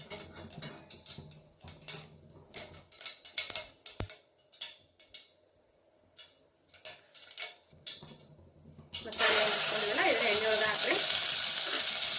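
Mustard seeds crackle and pop in hot oil while tempering a mung bean sambar: sparse sharp pops and stirring scrapes at first, then a sudden loud continuous sizzle as ground masala paste hits the pan.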